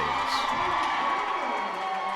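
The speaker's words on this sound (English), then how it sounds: "And cheers from the home crowd" A home crowd cheers at a roller derby bout, a steady wash of voices and whoops filling the arena throughout, with no lull.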